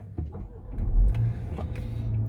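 A Range Rover Velar hybrid starts up, its engine settling into a low, steady idle rumble close by after a brief thump, with faint clicks and a short rising tone over the hum.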